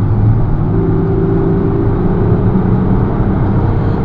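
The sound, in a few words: Audi Q7 3.0 TDI quattro engine howling while accelerating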